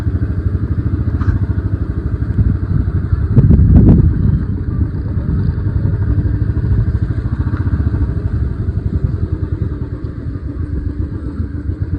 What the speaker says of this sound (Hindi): तो अब हम पार्किंग लगाएंगे अपनी बुलेट को।